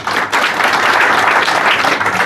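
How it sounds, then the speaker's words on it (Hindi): Loud, dense applause from a crowd at a formal welcome ceremony for a new commission chairman, a sustained roar of clapping that swells and holds steady throughout. "ताली बजाओ जोरदार।"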